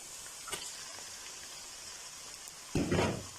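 Julienne-cut chicken hits a pan of softened onions with a sudden loud sizzle that swells and holds, following a quiet stretch of faint background hiss.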